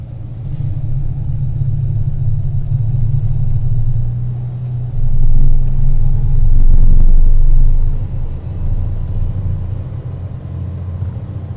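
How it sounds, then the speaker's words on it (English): Heavy road traffic in a trucking video game rolls past as a loud, steady low rumble of engines, swelling for a few seconds as a vehicle passes close, with no voices. "I gotta turn that traffic down"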